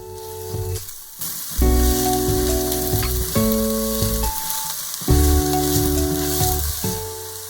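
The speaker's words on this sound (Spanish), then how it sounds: "Sofreímos moviendo para que no se pegue. Agregamos los hongos shiitakes." Shiitake mushrooms with onion, garlic and ginger sautéing in a pan. A loud, close sizzle runs throughout, swelling as the pieces are stirred, under a sustained humming tone and with no voices.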